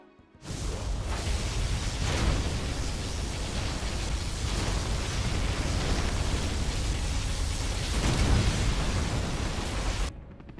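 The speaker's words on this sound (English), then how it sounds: "Select target. Particle cannon activated." A sustained, roaring particle cannon blast from the USA superweapon in Command & Conquer Generals Zero Hour, loud and steady for about ten seconds, with a heavier surge near the end before it cuts off abruptly.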